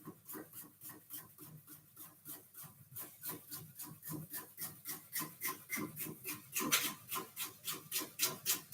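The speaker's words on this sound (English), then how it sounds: "if you want to grate them, then you can grate them." Vegetables for tzatziki dip are rubbed against a grater in quick, even rasping strokes, a regular scraping rhythm that picks up pace and grows slightly louder toward the end.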